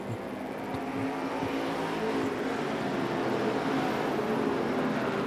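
IMCA stock cars racing at Arizona Speedway, a dense continuous roar of engines at full throttle, loud and sustained with a broad rumbling wash of distant and nearer cars, no clear speech.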